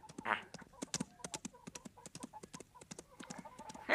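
Rapid galloping horse hoofbeats clatter in a steady, driving rhythm, fairly close and crisp, with a brief burst of noise at the start and a louder swell at the end.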